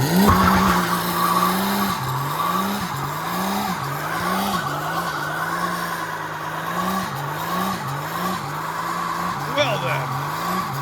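Cheap turbo car doing a burnout, its engine held at a pulsing rev while the tires squeal and skid continuously, loud and close, with voices faintly beneath.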